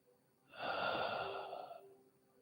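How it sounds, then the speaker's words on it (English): One slow, deliberate in-breath through the nose, close and airy, swelling then fading over about a second and a half in a quiet room. "I'm breathing in."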